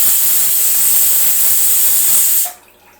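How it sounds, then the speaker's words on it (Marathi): A pressure cooker releases a loud, steady hiss of steam in a home kitchen for about two and a half seconds, then cuts off abruptly into quiet. "कुकरच्या शिट्या होतात आहे आणि आपण इथे तयारी करतोय भाजीची फोडणी द्यायला"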